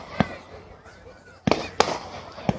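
Fireworks at a fair by a lakeside road burst in sharp, separate bangs, one early and three more in quick succession later, loud and fairly close, with people talking around them.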